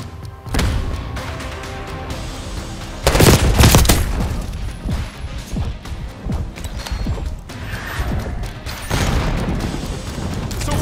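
Call of Duty 6 battle: a frag grenade blast booms amid repeated bursts of gunfire and crashing impacts, loud and dense throughout.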